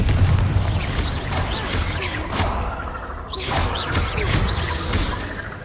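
Confringo fire spell blasts in the Hogwarts Legacy video game, a series of booming explosions with whooshing bursts, loud and close, repeating every second or so amid game sound.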